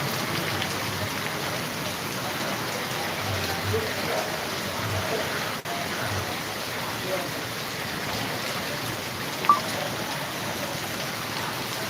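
Heavy downpour in Jamkandorna, a steady dense hiss of rain falling on surfaces that runs without a break, with one brief knock near the end.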